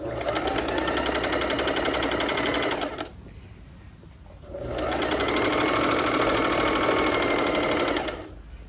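A domestic sewing machine runs a straight stitch through knit fabric in two long, loud, steady runs of rapid needle clatter, with a short quieter pause between them.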